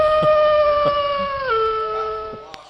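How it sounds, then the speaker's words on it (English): A wolf howl sound effect booms over a football stadium at a Red Wolves game, one long, steady, tonal howl that dips in pitch near the end and fades, with faint crowd noise beneath. "pack of Red Wolves is going to bring out the howl."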